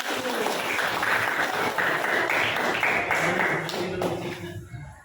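A school class applauds a group of classmates with sustained, dense clapping from many hands, fairly close and even, tapering off at the end.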